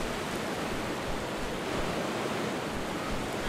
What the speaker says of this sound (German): Hier ist der Wasserfall.